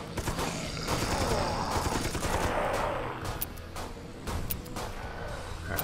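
Turret gunfire in the video game Dead Sky rattles on continuously as dense automatic bursts with mechanical clanks and a few sharp cracks near the end, loud and steady throughout.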